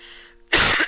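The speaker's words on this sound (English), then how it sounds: "sorry about the cough" One short, sharp cough bursts out loud and close after a moment of quiet background hum.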